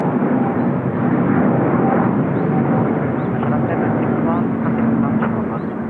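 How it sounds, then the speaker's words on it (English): An Airbus A350 airliner taking off at Incheon Airport, heard as a loud, steady, broadband jet engine roar that persists the whole time with a faint tonal whine on top. "The A350 is such an elegant aircraft."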